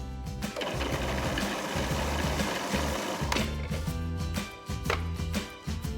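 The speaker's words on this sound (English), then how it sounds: "Simply add 2 preserved lemons to fresh parsley and whiz together." A blender whizzing preserved lemons with fresh parsley, a close, loud motorized whirring that runs in uneven bursts, briefly dipping and surging as the blades chop through the mixture.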